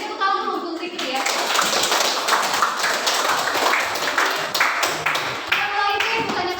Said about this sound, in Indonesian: Beri tepuk tangan dulu untuk Fikri ya.